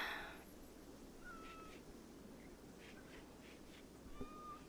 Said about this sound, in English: It's our constant soundtrack. The meowing.